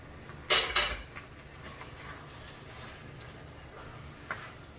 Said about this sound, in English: And I just keep stirring and making sure it's well incorporated, everything is well incorporated.